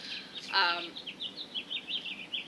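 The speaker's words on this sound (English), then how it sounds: "if you can hear the birds are singing." Birds chirp and trill repeatedly in the background outdoors, with a brief louder call partway through, steady and moderately distant.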